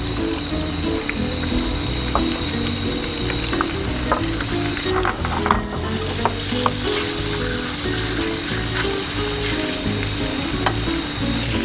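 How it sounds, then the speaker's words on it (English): Freshly caught whiting fish fries in a pan with a dense, continuous close sizzle and crackle, with faint stirring clicks scattered through it and no speech. "Very easily and quickly fry this up."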